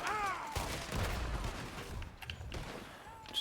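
Shotgun fire in the video game Red Dead Redemption II, a few sharp blasts in quick succession over game sounds, close and loud, with brief tonal game effects at the start and end.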